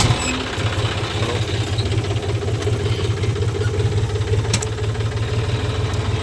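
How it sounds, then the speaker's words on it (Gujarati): A tractor engine rumbling at idle, loud and close, with a rapid steady knocking pulse throughout and no talk over it. "આપણે ટ્રેક્ટર ચાલુ કરો"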